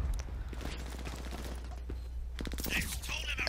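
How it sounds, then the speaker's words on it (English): Shotgun blasts in the video game Brink, a stopwatch match, sound as a few sharp reports over steady game noise and music, with a louder cluster of hits near the end. "this right here is why I freaking love the shotgun in this game"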